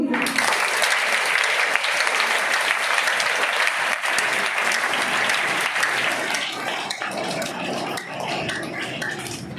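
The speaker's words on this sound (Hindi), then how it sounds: "इसलिए आप सभी प्रत्येक व्यक्ति के लिए एक बार ताली बजाएंगे।" Students and staff clap for the teachers at a Teacher's Day thank-you gathering at school, a loud, continuous round of applause that thins slightly toward the end.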